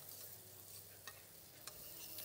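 Water with a splash of apple cider vinegar bubbling steadily in a pan, a continuous soft hiss and simmer with a couple of brief clinks, heard alone at low level.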